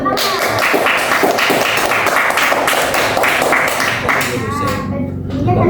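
A school class claps their hands together during a micro-teaching lesson, a loud, fast, slightly ragged burst of many hands close by, with voices mixed in.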